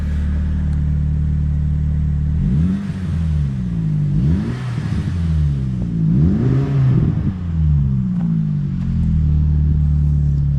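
A 2001 Saab 9-3 Viggen, warmed up, idles with a low steady gurgle, then takes several quick throttle blips that rise and fall before settling back to a smooth idle, close and loud.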